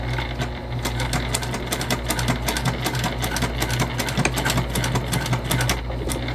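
A sewing machine stitching a backpack, running as a continuous close rapid needle chatter with a steady motor hum underneath and no talking.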